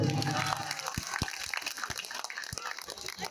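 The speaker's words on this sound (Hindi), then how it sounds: "ताली अपने लिए बजा दीजिए सब लोग" Crowd at a political rally in New Delhi clapping for itself, a dense burst of applause with a few sharp individual claps standing out near the front, tapering but continuing over the whole stretch.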